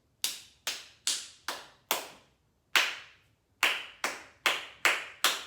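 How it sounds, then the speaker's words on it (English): Hands clap out a rhythm pattern, about eleven sharp, close claps in spaced groups with a longer gap midway, nothing else heard. "first I'll clap it out for you, and we'll do the pattern"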